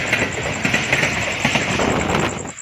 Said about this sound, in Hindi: ट्रेन पूरी स्पीड के साथ गुजर रही है